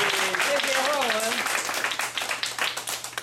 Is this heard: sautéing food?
no